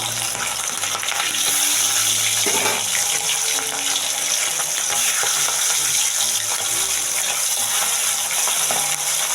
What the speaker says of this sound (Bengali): আমি একে একে মাছগুলো ভেজে নেব।